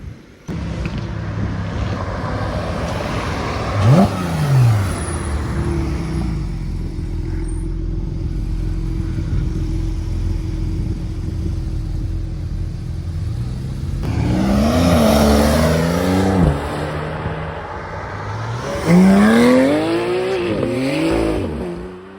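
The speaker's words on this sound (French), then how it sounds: "C'était incroyable le son des 3 Flat 6 là, mais mention spéciale pour le Flat 6 Atmo forcément" Three Porsche flat-six sports cars, one of them naturally aspirated, accelerate away during carspotting in Deauville. Loud, rising and falling engine howls sweep past one after another, with a steady traffic roar underneath.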